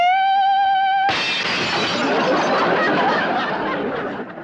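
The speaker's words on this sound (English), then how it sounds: "I hit such a perfect note, it busted the glass." A sustained sung note cuts off as a glass shatters loudly and close by. Tinkling fragments scatter for several seconds, then fade.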